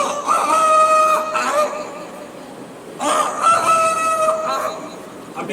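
A rooster crows twice close by, two long loud calls a couple of seconds apart, each with a rising start and drawn-out tail, alone without talk.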